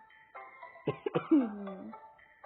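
Two or three sharp coughs ring out close by, ending in a drawn-out, throaty rasp.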